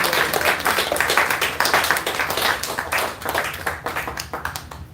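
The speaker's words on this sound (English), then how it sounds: "give a round of applause for her." A small class claps for a woman after a scripture lecture, close, crisp individual hand claps blending into brisk applause that gradually thins toward the end.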